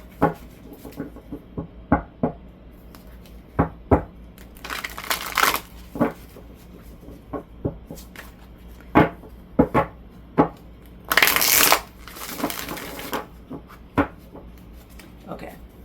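Cards riffle and snap in repeated short bursts, with a couple of longer shuffling rushes, close by and moderately loud.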